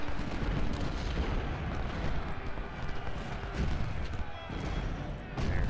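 Civil War cannon and artillery fire rumbles through a battle at Fredericksburg in the strategy game Ultimate General: Civil War, a dense, continuous wash of distant booms and crackling gunfire with no clear single shot standing out.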